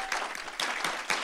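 Brief audience applause at a university faculty and staff assembly after a new diversity officer is announced, a short burst of clapping with a few louder pulses, no voices.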